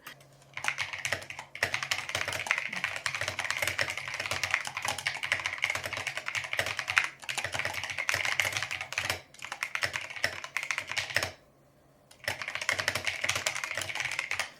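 Rapid clacky typing on a mechanical keyboard, continuous bursts of key presses with a couple of brief pauses, close and crisp, no talking.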